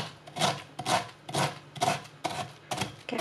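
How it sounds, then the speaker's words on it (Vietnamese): Pineapple being minced with a serrated knife on a cutting board, a steady series of about seven rasping, sawing chops, close and fairly loud. "để bầm cho nó dễ là mình lấy cái dao răng cưa nè,"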